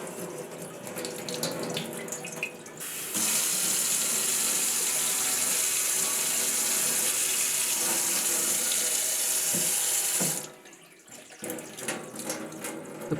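Liquid pours from the thrown spout of a handmade ceramic pourer in a loud, steady splashing stream that lasts about seven seconds, with quieter handling noises before and after.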